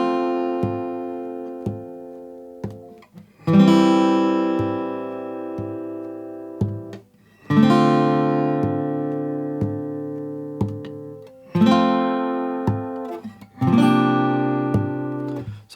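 Strummed guitar chords from the first four bars of the verse of a song ring out in a slow progression, each sustaining and fading before the next, with light rhythmic taps between strums.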